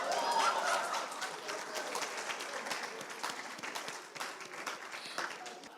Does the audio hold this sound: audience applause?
yes